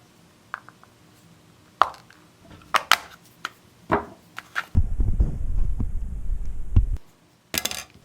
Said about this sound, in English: take a small screwdriver or a dull butter knife and stick it right in between this pin